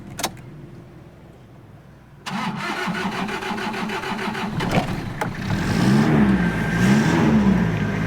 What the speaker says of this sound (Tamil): வண்டி ஸ்டார்ட் பண்ணி காட்டணும் பாருங்கள்